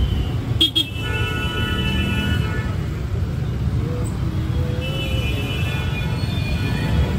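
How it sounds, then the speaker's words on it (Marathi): Heavy traffic jam on a busy road, with horns honking near the start and a constant low rumble of engines and road noise, plus some speech in the background. "लय ट्रॅफिक आहे."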